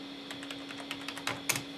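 Quick taps on a computer keyboard during a login, a dozen or so light clicks in an uneven rhythm, close but faint over a steady electronic hum.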